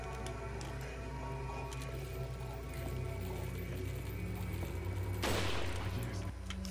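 Gunfire from the video game Resident Evil 4 sits in a dense, steady game soundscape, with a sharper burst near the end standing out from the constant background.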